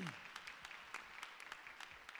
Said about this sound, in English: let's give one more round of applause to Jazz Studio Band